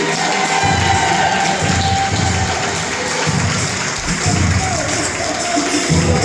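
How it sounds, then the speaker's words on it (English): A large crowd at a wedding reception applauds and cheers continuously for the wedding party, loud and dense throughout, with shouts rising over the clapping. "Give them a big round of applause."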